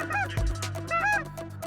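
Geese honk loudly overhead during a goose hunt at last light, repeating in overlapping calls over a low droning background.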